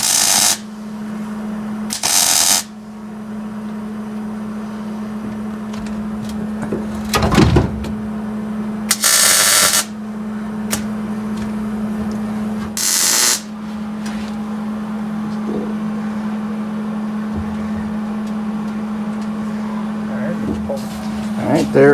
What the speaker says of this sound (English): just gonna put some tack welds on there.